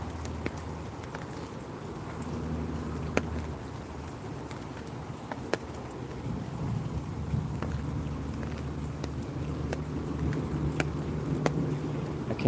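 Steady rain and low rumbling thunder at Cypress Slough Preserve in Florida, a continuous wash of rainfall with scattered sharper drops and a deep rolling undertone throughout, no voices.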